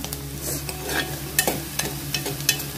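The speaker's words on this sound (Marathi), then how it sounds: "लगेचच परततो कांदा, बघा ट्रान्सपरंट व्हायला लागला आपला कांदा" Onion sautés in a pan for a Marathi cluster bean dish, a soft sizzle under a steady low hum, broken by several scraping stir strokes near the end, close and moderately loud with no talking.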